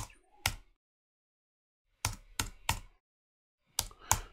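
Typing an IP address on a computer keyboard while setting up a Raspberry Pi: a single keystroke, then short clusters of close, crisp key clicks separated by silent pauses, with no talk.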